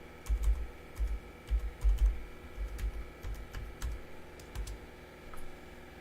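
A root password goes in on a computer keyboard as a close, uneven run of soft key presses over a faint steady hum, with no voices.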